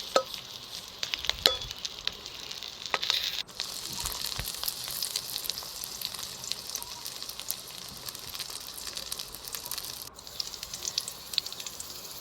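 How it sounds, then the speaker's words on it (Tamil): Onion, garlic and green chili sauté in a pan for a village-style fish fry, a faint, steady sizzle with occasional sharp clicks and scrapes of stirring. "இப்போ பார்த்தீங்கன்னா வெங்காயம் பூண்டு நல்லா வதங்கிருச்சு"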